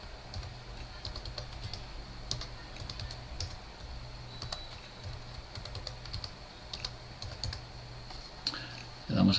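Keys clatter on a computer keyboard as a password is typed during a domain setup. Quick, light clicks come in irregular bursts, close and fairly quiet, with a louder knock at the end.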